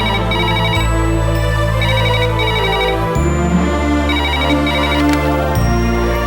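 A phone ringtone plays loudly and continuously as a looping electronic melody over a sustained musical bed in a Tamil TV serial scene, with no voices over it.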